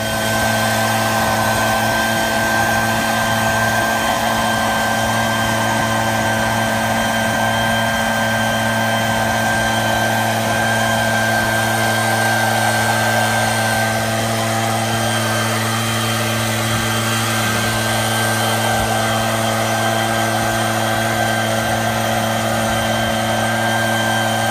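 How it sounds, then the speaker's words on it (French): Battery-powered lithium-ion leaf blower running, a steady loud whining drone with a constant high tone that holds unchanged throughout, with no talk. "comme ce souffleur"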